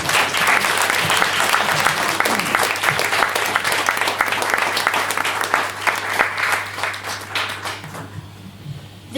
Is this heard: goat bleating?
no